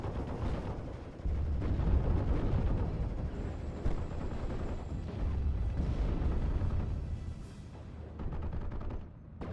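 An artillery barrage slams down on flak 88 gun positions in a World War II strategy game, a dense rolling stretch of heavy booming impacts and crackling blasts, loud and continuous with brief dips between salvos.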